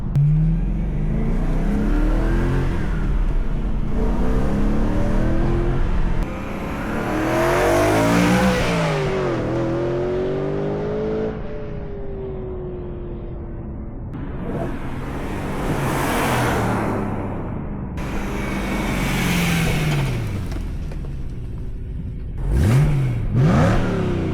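A BMW M3 E92's aftermarket exhaust revs repeatedly, the engine note climbing and falling in loud, close bursts with short pauses between.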